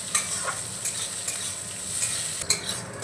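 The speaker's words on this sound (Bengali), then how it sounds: "এবার ভালো করে একটু নাড়িয়ে নেব।" A large chopped onion fries in a pan, giving a steady sizzle broken by several sharp scrapes and clinks of a utensil as it is stirred, close up.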